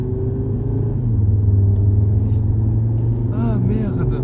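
An Audi RS3 stage 1 accelerating hard: a loud, close, continuous engine drone and rumble that rises slightly in pitch, heard from inside with a steady roar throughout.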